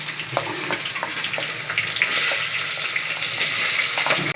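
Onions frying in hot oil for chicken biryani, a steady close sizzle with scattered crackles and utensil taps that thickens and brightens partway through.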